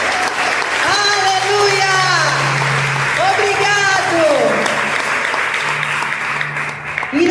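A church congregation claps together during a family celebration service, with sustained applause and a preacher's voice speaking over it.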